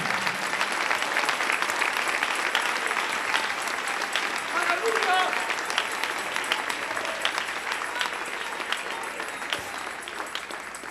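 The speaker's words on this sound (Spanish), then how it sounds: "Dale un aplauso al Rey en esta hermosa y preciosa mañana." A church congregation claps together during a Spanish-language worship service, a sustained, even roar of many hands filling the room for the whole stretch without letting up.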